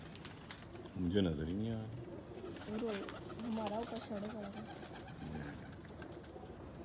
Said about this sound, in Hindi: बहुत अच्छी कबूतरी है यार।